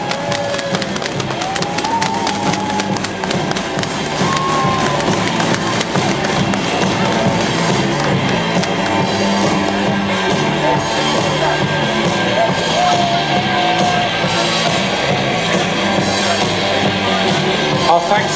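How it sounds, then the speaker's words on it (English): Crowd banging on race barrier boards at a night-time cycling race, a dense, continuous rumble of rapid thumps and taps with scattered shouts, loud and sustained throughout. "Bang those boards, everybody."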